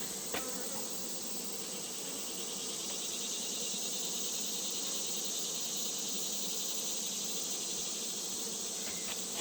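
Honey bees buzz in a dense, unbroken drone at an open hive during a colony inspection, close and constant, with a couple of faint clicks as some are scooped out for a mite sample.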